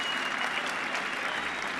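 Local spectators at a 2013 Canary Wharf squash semi-final clapping steadily for Essex player Peter Barker, a dense, even wash of applause filling the whole moment without a break.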